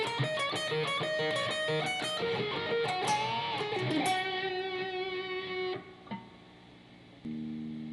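An electric guitar plays a blues solo at full tempo, a quick flurry of picked notes and bends that ends in a held, fading note, close and alone.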